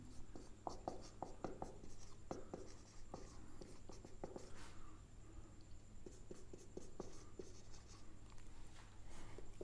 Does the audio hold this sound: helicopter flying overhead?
no